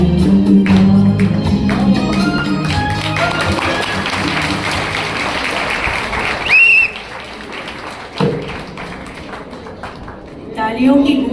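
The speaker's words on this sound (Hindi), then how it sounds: "तालियों की गूंज बता रही है कि कितना पसंद किया इस गीत को।" An audience claps loudly and continuously after a song, sustained applause close by with a few scattered claps near the end, while a voice speaks over it.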